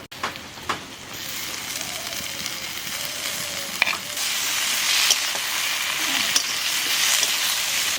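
Onion and tomato fry with a continuous sizzle in a pan nearby, growing a bit louder partway through, with occasional clinks and scrapes of stirring.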